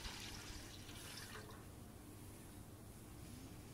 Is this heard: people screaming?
no